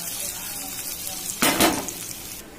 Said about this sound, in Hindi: तो हम इसे अच्छे से तड़कने देंगे